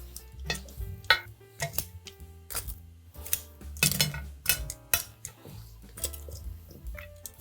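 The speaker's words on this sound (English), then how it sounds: "So now let's take our wings and put them on our serving tray." Crispy baked garlic parmesan chicken wings set onto a serving tray, heard as a run of light clinks, taps and soft scraping against the tray, fairly quiet and close, with no voices.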